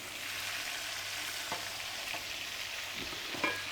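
Onions frying in a pan for Hutsul-style cabbage rolls, a steady broadband sizzle at moderate level with a few soft utensil clicks near the end.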